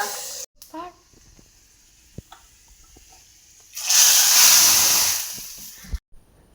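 Spices for a curry tempering drop into hot oil and hiss in a loud, bright sizzle lasting about two seconds, following quieter kitchen clatter and a few soft knocks.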